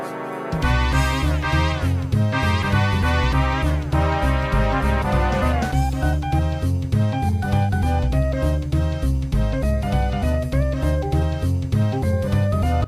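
Upbeat, jazzy level music from the Mister Max video game plays loud and continuous, with a steady bass line and rhythmic accompaniment under bright melodic lines, and no talking over it.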